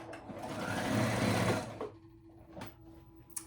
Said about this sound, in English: Just do a zigzag stitch right on top of that seam and catching that thread.